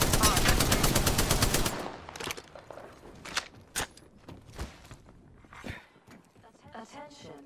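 Automatic weapon fire in Apex Legends, a fast sustained burst at the start, then scattered single shots, footsteps and game sounds, with a voice speaking over the action.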